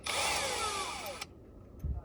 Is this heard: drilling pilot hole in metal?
yes